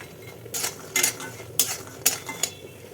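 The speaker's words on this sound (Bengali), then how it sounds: "আর এখানে একটু বড়ি ভাজছি" Bori lentil dumplings fried in oil in a kadai, heard as several sharp metallic scrapes and clinks of a spatula stirring against the pan over a light sizzle, close up and without speech.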